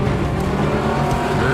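Car engine and road roar from a moving car in a Daredevil TV episode, a dense continuous rumble with some squealing tire texture, loud and close throughout.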